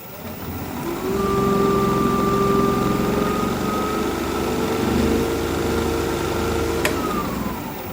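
A wood lathe spinning a laurel bowl blank at 1500 RPM spins up and holds a steady, loud motor whine with a sustained tonal hum, running alone without talk.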